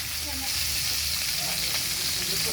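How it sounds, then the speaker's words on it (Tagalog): Loud, steady sizzling of garlic, onion and red pepper sautéing in a hot pan, a continuous crackling hiss with faint voices underneath. "Prito muna natin. Gigisa muna natin"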